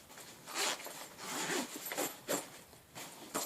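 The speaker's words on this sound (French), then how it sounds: "Et si on veut, on peut l'ouvrir via un zip." A zipper opening the lower pocket of a Tasmanian Tiger Raid Pack MK II backpack, heard as several short close rasping pulls in quick succession, fairly quiet.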